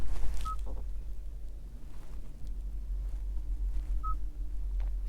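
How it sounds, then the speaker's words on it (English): On the infotainment touchscreen of a 2023 Kia EV6 GT, two short, soft beeps sound as keys are pressed, spaced a few seconds apart, over a steady low cabin hum. "Love the tactile sound that it gives you and feedback when you do type into the infotainment."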